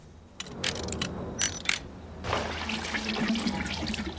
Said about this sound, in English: We're going to go and create a gas leak or an oil leak.